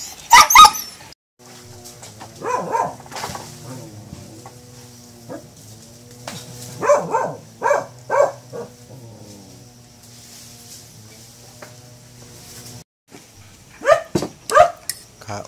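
A pregnant black dog at a rural coconut farm barks in sharp loud bursts at the start and end, with quieter yips and whimpers between, close and over a low steady background hum.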